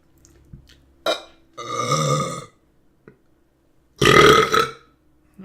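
Two loud, drawn-out human burps sound close up, each a rough guttural rumble, separated by short gaps of near silence and a few small clicks.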